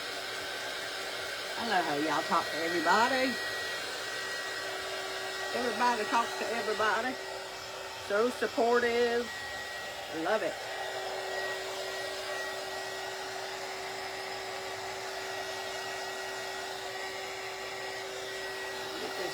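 A small Ranger heat tool for crafting blows a steady loud whirring stream of hot air throughout, while someone talks over it.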